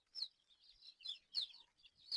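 Small tiger chicken chicks cheep in quick high-pitched bursts at a hatchery, several peeps in a row, fairly faint with quiet gaps between.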